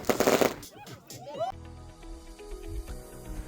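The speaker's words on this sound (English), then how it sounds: "we ended the night in fireworks." Fireworks burst at night in the Peruvian desert: a sharp crackling salvo, then whistling rising rockets, with voices and music faintly underneath.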